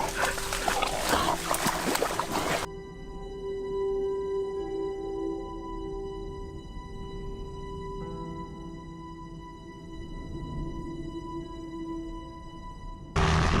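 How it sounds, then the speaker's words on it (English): Hunting dogs yelping and whimpering while cornering wild boars, with excited barks at the start and end around a long stretch of sustained tonal whining, fairly close and loud. "These dogs have the important task of cornering the wild boars, giving the hunters the opportunity to get closer"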